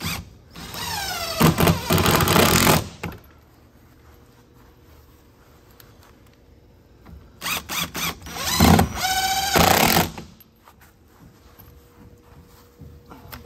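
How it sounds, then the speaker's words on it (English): A screw is driven through plastic into a 2x6 on a swim spa cover shelf, with two close, loud bursts of whirring power-driver noise separated by a quiet pause. "One more screw in."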